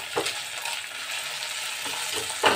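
Ginger and green chilli frying in a pan as they are stirred: a soft, steady sizzle with a few faint scrapes of the spoon, close by.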